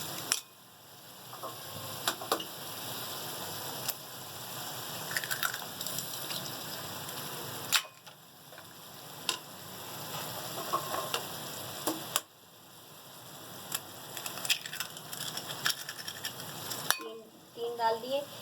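Eggs cracked one by one into hot oil beside tomato masala for anda bhurji, giving a steady crackling sizzle with brief pops and taps, interrupted by a few sharp breaks.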